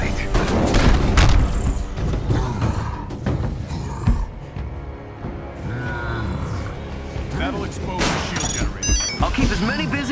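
Booming, rapid bursts of gunfire from AIM handheld guns crackle through a Marvel's Avengers battle, heavy at the start and returning in clusters, mixed with other effects and voices.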